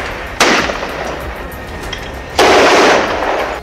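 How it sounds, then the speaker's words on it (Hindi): Gunfire during an Israeli soldiers' raid on a house in Khan Younis, South Gaza: two loud bursts of rapid shots, the second longer, echoing between buildings. "गोलियां चलने लगी।"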